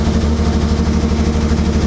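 A BMW E24 633CSi that sat underground for eight years idles roughly at a high idle of around 1600 rpm, giving a loud, steady, close engine drone with a slightly uneven, pulsing throb and no voices.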